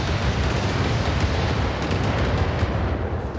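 Explosions like fireworks go off in the mech combat game BattleTech as a loud, dense roar of blasts and rumble that runs the whole stretch with no pause.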